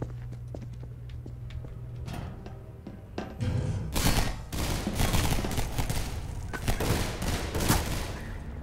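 Weapons fire in the video game Half-Life 2: Episode Two, starting with sparse sharp cracks and then building into a dense, continuous volley of shots for the latter half.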